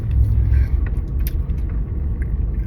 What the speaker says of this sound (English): lights out, car in reverse